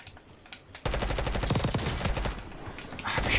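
Gunfire from a low-recoil weapon in Warzone: quiet at first, then a sudden dense burst of rapid automatic shots that carries on loudly to the end.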